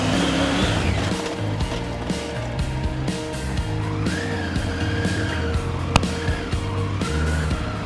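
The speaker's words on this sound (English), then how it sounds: "let's get you used to the feeling of skidding up" A motorcycle's rear tyre skids under rear braking, with ABS kicking in, giving a sustained rough scrubbing squeal over steady engine and road noise. The sound is close and continuous, with no voices.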